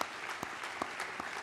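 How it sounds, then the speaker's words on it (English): Audience applause at a JDRF Boston charity gala, a steady dense wash of many hands clapping with a few sharper claps standing out, loud and continuous for a short stretch. "Please give them all another great big round of applause."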